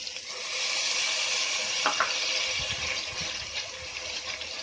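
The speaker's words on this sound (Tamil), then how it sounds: "இது பச்சை வாசனை போற வரைக்கும் நல்லா வதக்கிக்கலாம்." Ginger, garlic and onion paste for channa masala fries in a pan, giving a steady close sizzle with faint stirring and a couple of brief clinks, with no voices.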